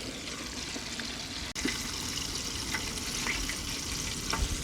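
Pork pieces with skin frying in hot oil at 180 degrees, giving a steady, dense sizzle and crackle up close that runs the whole time, with a brief dip partway through.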